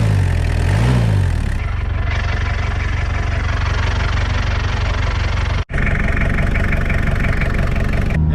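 A 500,000 km turbo diesel engine fitted with a new snorkel and airbox runs steadily, a close, loud, continuous idle-like drone with a brief dropout near the end and no talk.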